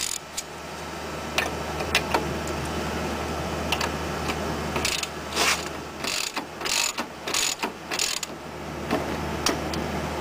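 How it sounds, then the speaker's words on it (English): Ball joint nut being run down on a third-generation Ford Escort, a steady ratchet clicking in repeated bursts with short pauses between strokes, close and fairly quiet, no talking. "I'm going to tighten this down all the way now."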